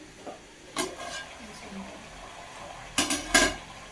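Cooked tomatoes stirred in a pan for tomato chutney, a spoon scraping and clinking against the metal in a few separate bursts, with quieter gaps between them.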